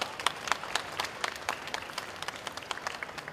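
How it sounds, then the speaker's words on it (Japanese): An audience at a Japanese competition final claps for three finalist groups: a moderate, fairly steady round of applause with distinct individual claps standing out, no voices over it. "皆さん今一度3組に大きな拍手をお願いします"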